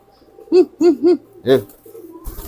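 Pigeon courtship cooing up close: three quick rounded coos followed by a longer, louder one, then quiet and a brief rustle at the end.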